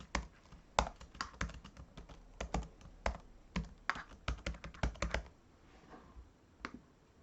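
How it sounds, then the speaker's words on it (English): Password keys tapped on a computer keyboard during an online NFT auction setup, with irregular bursts of close, crisp clicks and brief pauses between them. "So putting in my password."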